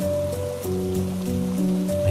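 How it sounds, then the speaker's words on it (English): Cold, unrelenting rain falling in a horror video game, a steady close hiss of rainfall over low droning tonal music that holds throughout. "Emerging from the cave, the rain greets me, unrelenting and cold."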